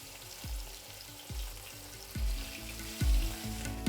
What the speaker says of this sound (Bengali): আশা করি নিশ্চয়ই দেখতে পাচ্ছেন মাছটা কিন্তু ভাজা হচ্ছে